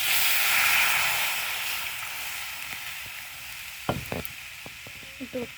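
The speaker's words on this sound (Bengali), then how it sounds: "ওই কড়াইতে দিয়ে দেব এখন 1 বাটি দুধ।" A bowl of milk hits a hot wok-style pan while making butterscotch ice cream, giving a loud hissing sizzle that slowly fades, followed by a few sharp utensil knocks and stirring clatters near the end.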